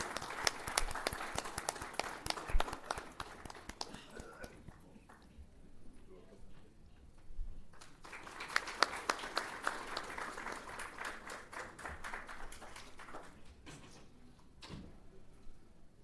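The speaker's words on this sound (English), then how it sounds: "A loud round of applause, please." Applause at a Central Electricity Authority ceremony, scattered claps in two waves separated by a quieter lull, fairly faint and somewhat distant, with a few louder individual claps.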